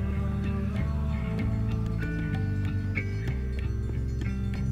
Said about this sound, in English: I always love that percussion when they introduce that.